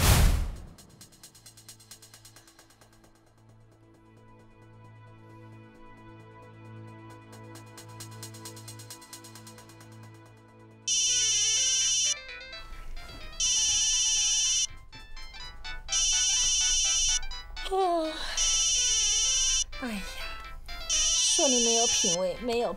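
A mobile phone ringtone sounds late at night, repeating in loud regular electronic bursts after a long sustained musical lead-in, with people talking between and over the rings.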